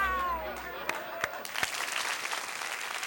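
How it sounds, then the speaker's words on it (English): Cartoon crowd applauding in an animated episode, a steady wash of clapping that rises after a few sharp hand claps, with a voice briefly heard at the start. "Why are they all applauding?"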